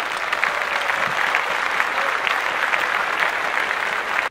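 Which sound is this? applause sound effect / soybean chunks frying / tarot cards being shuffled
applause sound effect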